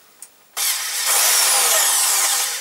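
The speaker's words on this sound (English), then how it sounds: "Get your drill." An electric drill spins an engine valve from a CX500 V-twin four-stroke, held on with tape, against a brass wire wheel, giving a steady, loud, close whirring scrape that starts abruptly and holds without a break.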